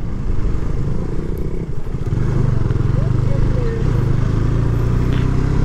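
A motorcycle rides along a misty hill road, its engine a steady, close drone mixed with wind rush and light rattles throughout.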